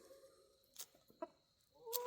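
Hens clucking softly at bedtime, giving a few faint, scattered clucks and calls at close range amid quiet background.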